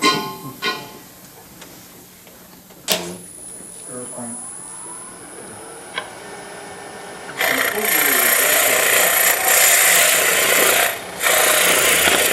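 A wood lathe spins with a turning tool cutting into wood. A thin steady whine with sporadic knocks gives way to loud, continuous rasping cuts that pause briefly before resuming.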